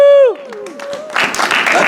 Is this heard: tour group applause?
yes